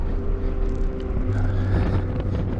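A 2019 Ford Mustang GT track car easing around a cool-down lap, its engine a steady low drone under heavy wind buffeting at the microphone, with no voices.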